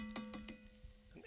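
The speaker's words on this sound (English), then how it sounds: "Now we're going to add the garlic." Garlic dropped into a hot pot on a grill sizzles faintly in short bursts, with a few light clinks and stirring sounds, fairly quiet and close.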